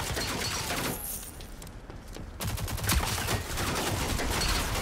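Dense gunfire rattles through a match of the shooter video game Rogue Company, rapid overlapping shots running almost continuously at a loud level, with a brief drop in intensity partway through.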